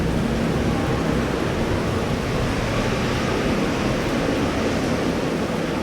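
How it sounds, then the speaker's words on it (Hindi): Continuous hissing downpour, a dense even wash of noise like heavy rain, steady from start to finish with no voices. "थोड़ी देर बाद बारिश भी शुरू हो गई।"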